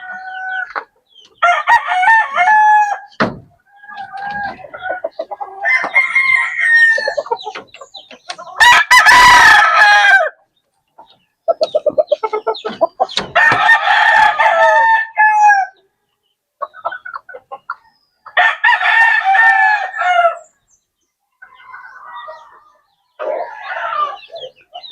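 Gamecock roosters on a small farm crow repeatedly, loud and close, each call a long rising cock-a-doodle-doo, with clucking and other fowl noises between crows and no talking.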